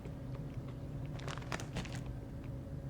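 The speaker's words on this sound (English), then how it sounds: "There's a crunch. You didn't tell me there'd be crunch." Crunching bites into a chocolate peppermint Christmas snack with real peppermint pieces, a cluster of crisp crackles close up in the middle, over a steady low background hum.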